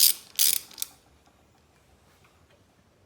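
A ratchet loosening intake manifold bolts on a high-powered Honda engine build: two loud bursts of rapid clicking close up, a shorter third, then quiet with a faint tick at the end.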